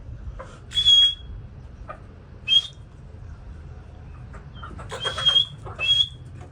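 Short, sharp high whistles from a person calling to a bird come in a few separate bursts over a low background hum, with quiet gaps between them.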